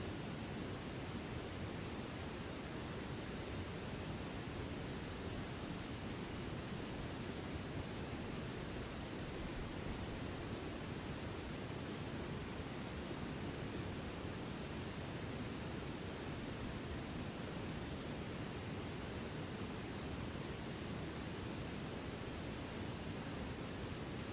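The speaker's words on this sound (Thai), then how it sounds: "เสียงน้ำไหล" Flowing water near a village suspension bridge rushes in a steady, even broadband wash, loud and constant throughout with no voices or breaks.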